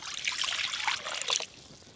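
Water trickles and pours steadily into a pot in a home kitchen while Bengali summer dishes are cooked, a close, continuous splashing stream that eases off toward the end.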